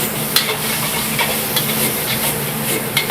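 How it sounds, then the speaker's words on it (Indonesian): Constant loud sizzling of garlic stir-fried in a hot pan with shrimp and chicken, with occasional scrapes and stirring taps; no talking. "sekarang kita masukin bawang putih setelah kita udah tumis udang sama ayamnya ya"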